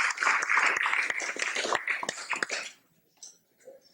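Applause from an audience at a devotional Vyasa Puja gathering for Tamal Krishna Goswami in Dallas, dense and steady for over two seconds before cutting off into near silence with a few faint sounds after.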